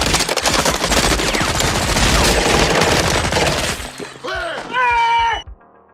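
A WE MP5 gas blowback airsoft gun fires a rapid, close burst of sharp snapping shots lasting several seconds, then stops, followed by a brief voice.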